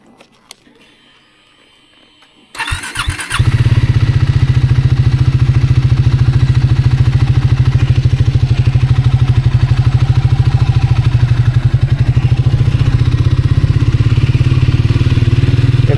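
Motorcycle on the California coast fires up after a quiet moment and settles into a loud, steady engine drone as it rides away, close and continuous with no talking.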